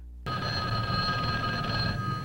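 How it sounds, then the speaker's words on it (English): A telephone rings steadily in a phone booth, a loud, continuous electric bell tone that starts abruptly after a brief moment of quiet and carries on alone. "a phone booth that rings for him"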